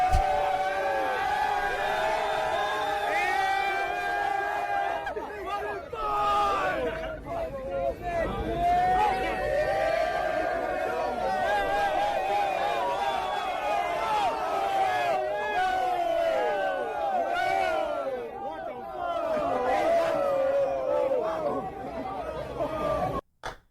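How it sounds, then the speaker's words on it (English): A large New York City crowd fills the background with a steady, distant hubbub of chatter, while a nearby voice keeps talking over it throughout. "That's a whole lot of people in the crowd"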